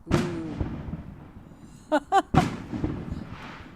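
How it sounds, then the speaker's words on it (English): Fireworks going off outdoors beside a fire where marshmallows are being toasted: a few sharp booming bursts, the loudest at the start, then a short cluster of crackling pops, heard against a crackly background. "So I get to enjoy my treat while hearing these fireworks going off."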